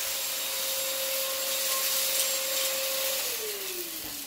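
A Silvercrest cordless handheld battery vacuum cleaner runs steadily and loudly throughout, with a constant whine whose pitch drops slightly near the end, and no talking.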